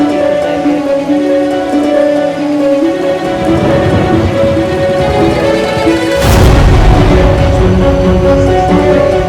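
Heavy rain pours down in Nalgonda, a dense, steady hiss that grows louder and broader partway through, with a sudden surge of noise around the sixth second.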